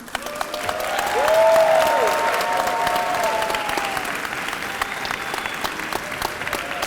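Warm applause from a convocation audience greeting incoming students, clapping that swells early and then continues steadily at moderate level, with a faint sustained tone underneath.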